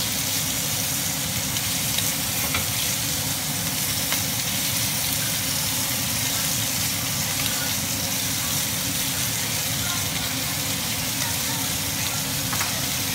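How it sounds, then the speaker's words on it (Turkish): Butter spread on the hot side of lamb on a grill, a steady, even sizzle and hiss that holds from start to finish at close range, with no clear talk. "Yine kızgın tarafına tereyağını sürüyorum."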